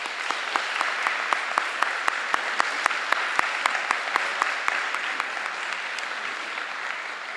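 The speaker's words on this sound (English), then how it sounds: "a big round of applause for our staff" Applause for the staff at a middle school 8th grade recognition ceremony: a steady, fairly soft wash of clapping from a crowd, with sharper individual claps standing out, continuing evenly throughout with no voices.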